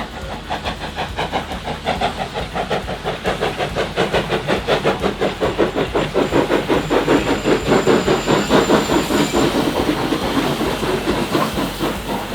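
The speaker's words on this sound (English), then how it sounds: "a variety of locomotives running on the demonstration goods train" Several locomotives, including steam engines, hauling a demonstration goods train at a railway workshop open day in Melbourne, with steady rhythmic wheel clatter and hissing steam that grows louder as the train passes close by.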